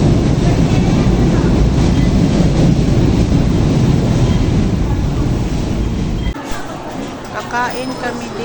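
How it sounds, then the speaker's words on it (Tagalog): A train passing near Central Terminal in Manila, with a loud, broad rumble that fills the first six seconds and then drops away. Background talk and city noise continue after it. "Bye-bye, train."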